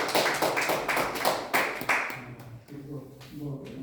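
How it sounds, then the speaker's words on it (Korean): A small church worship gathering claps for their pastor, with a burst of individual, fairly distinct handclaps that fades after about two seconds, followed by a voice speaking, all moderately quiet. "우리 정호재 목사님께 영광의 박수 드리겠습니다"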